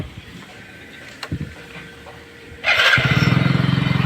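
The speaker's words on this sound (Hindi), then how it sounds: "चलो बाइक स्टार्ट करते हैं।" A motorcycle engine cranks and catches at the start of a ride, a brief starter whir giving way to a loud, steady, rapidly pulsing idle close by.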